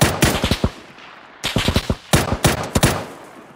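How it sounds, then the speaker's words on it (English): Automatic gunfire in PlayerUnknown's Battlegrounds, with close, loud rapid bursts of shots in three clusters separated by brief pauses, and no talk over it. "These guys shooting at me."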